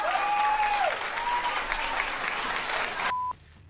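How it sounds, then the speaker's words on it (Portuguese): Loud audience applause at a political rally in Argentina honoring Javier Milei, dense steady clapping for about three seconds with tones and a whistle-like squeal over it, then cutting off abruptly to near silence. "Un aplauso grande para Javier,"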